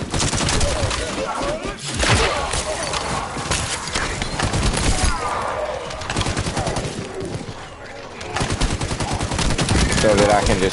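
Dense, sustained automatic gunfire from a high-capacity weapon in The First Descendant, shots rattling nonstop at close range with hardly a break across the whole stretch.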